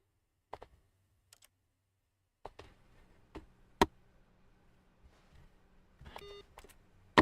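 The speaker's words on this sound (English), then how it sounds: "I love making beep sounds." Sparse computer beeps and key clicks from the Stanley Parable video game, isolated sharp blips spaced irregularly over quiet background, closing with a short cluster of tones.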